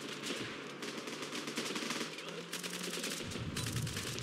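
Continuous rapid automatic gunfire in the war game Running with Rifles, dense rattling bursts firing almost without pause, loud and alone with no talk.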